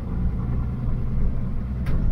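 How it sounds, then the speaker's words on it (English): A rebuilt 2H turbo diesel in an HJ75 Land Cruiser Troopy runs steadily, a close, even low rumble with smooth, continuous engine noise and no voices. "Even the engine sounds like it's just like running smoother."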